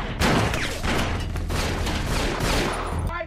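Gunfire erupts in a film scene as someone opens fire on people entering a room, a dense, continuous fusillade of loud shots and booms filling the whole stretch with little pause.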